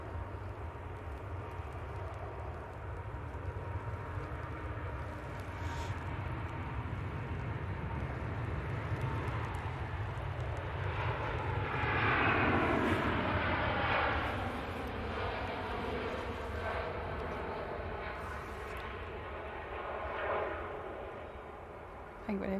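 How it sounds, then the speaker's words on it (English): A Singapore Airlines airliner departing Manchester Airport gives a distant, steady jet roar that swells in the middle and then recedes, with faint talk nearby. "That was Singapore Airlines off out to Houston."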